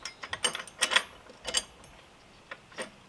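A 13mm wrench ratchets on a bolt of a Toro Timemaster mower, a series of quick metallic clicks in short bursts, then scattered pauses and a couple of later clicks, close and alone.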